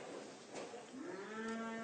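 A dairy cow on a farm gives a single drawn-out low moo that rises into a sustained tonal call, clear and fairly close, with no talking.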